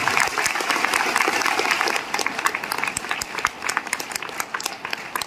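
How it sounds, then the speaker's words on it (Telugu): An audience at a business seminar in Bhuvanagiri claps loudly and steadily. The applause is dense at first and thins into scattered claps toward the end. "అందరికి గట్టిగా భువనగిరి చౌరస్తా వినపడాలి, గట్టిగా క్లాప్స్"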